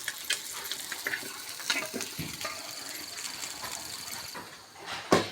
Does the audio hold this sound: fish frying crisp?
yes